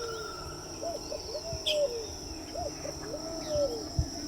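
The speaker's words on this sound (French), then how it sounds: "une nuit bercée par le chant des grenouilles, singes hurleurs et autres petites bêtes" Tropical night chorus in a Guyana marsh: rising whistled frog or animal calls repeat twice over a steady high insect drone, with scattered chirps and low croaks.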